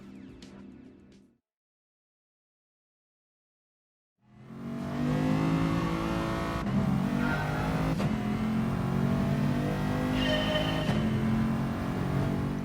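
Mercedes-AMG VGT concept race cars in Gran Turismo Sport at the Nürburgring GP start with a brief engine note, then a few seconds of silence. A loud pack of engines follows, revving and accelerating continuously.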